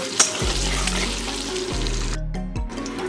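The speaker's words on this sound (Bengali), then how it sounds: "ডিম সুন্দর করে ভাজা হয়ে গেছে" Eggs fry in hot oil with Kashmiri red chili powder, a continuous loud sizzle with a low steady hum underneath and brief shifts as the pan is moved.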